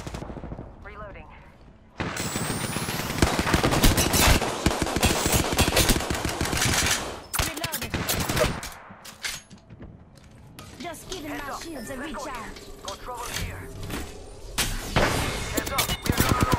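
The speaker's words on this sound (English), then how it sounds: "Getting shot at." Dense bursts of automatic weapon fire crackle in Apex Legends combat, rapid clattering volleys that stop and restart, with a quieter pause midway and voices calling out over the shooting.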